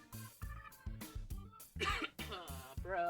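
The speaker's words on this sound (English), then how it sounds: "why am I coughing a lot, bro?" Someone coughs again and again in short, harsh bursts, close to the microphone, with brief pauses between fits.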